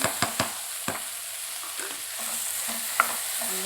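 Beans, potato, carrot and green chili stirred in a pan for vegetable kurma, a few sharp scrapes and knocks near the start, then quieter, sparse stirring over a soft sizzle.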